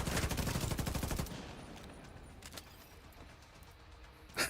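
Rapid video game machine-gun fire rattles loud and close for about a second, then cuts off, leaving quiet background and a few faint clicks before a short burst of noise at the end.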